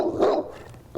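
A dog at a weight pull event barks once in a loud, close, gruff burst, followed by the start of another bark.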